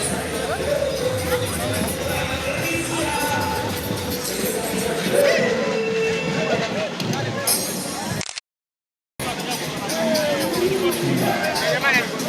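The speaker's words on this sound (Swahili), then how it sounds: "Watu wanashangilia kwa namna yao." Crowd of football fans cheering and celebrating at an airport, a dense continuous roar of voices, shouts and whistles close by, with a commentator talking over it and a brief dropout near the end.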